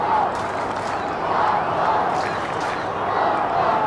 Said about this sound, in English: the Hawks fans, start the chant around the ground